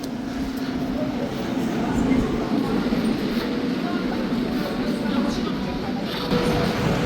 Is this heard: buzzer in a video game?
no